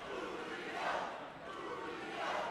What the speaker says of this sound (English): And Julio Gallegos, you hear the chants from his hometown crowd here